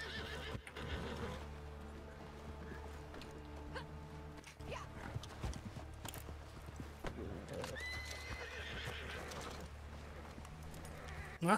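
A horse neighs and whinnies over steady clip-clopping hooves in the video game Red Dead Redemption 2, with a layered game-like ambience throughout.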